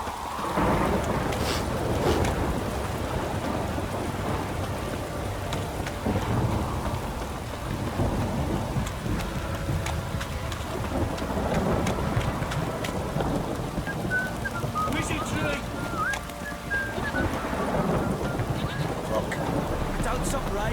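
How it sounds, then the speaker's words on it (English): Steady rain pours with rumbling thunder throughout a stormy scene in The Witcher 3: Wild Hunt, a dense continuous wash of noise with voices talking over it. "Don't stop raining, my arse will rot off."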